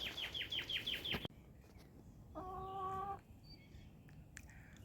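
Chickens in a backyard garden coop give a quick run of loud, close clucks and calls, followed by quieter ambient outdoor noise with a brief higher bird call later.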